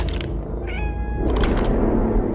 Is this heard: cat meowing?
yes